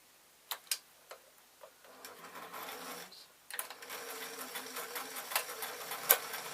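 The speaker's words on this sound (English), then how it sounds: "I'm just going to re-sew on his little harness to the ribbon, folded the ribbon over, and then placed it all under the foot." A sewing machine stitches a small toy harness onto folded ribbon for a parachute toy, starting with a few sharp clicks and then settling into a close, rapid rhythmic whirring and ticking of the needle.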